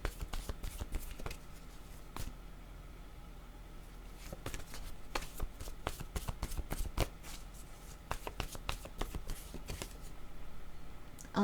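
Tarot cards are shuffled close by, giving dense bursts of crisp riffling and slapping that come in irregular clusters with short pauses between them. A voice is faintly heard in places.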